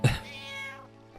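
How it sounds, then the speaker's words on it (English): In Final Fantasy 9 a cat gives one loud, close meow with a sharp start, followed by a softer, trailing tail of sound and a faint click at the end. "kitty."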